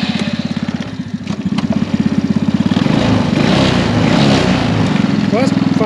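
A small mini jeep engine runs steadily with a fast, regular putter that grows slightly louder and rougher partway through, and a person talks over it.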